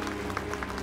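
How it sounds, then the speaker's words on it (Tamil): Brief, dense applause from the audience at a Tamil religious discourse on Periya Puranam, a steady wash of many hands clapping together. "இந்த கைதட்டு எனக்கா நரேந்திர மோடிக்கா?"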